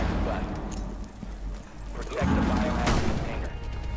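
Gunfire in the Rainbow Six Siege video game, a quick flurry of sharp shots and a heavier blast mixed with game noise, with voices talking over the action.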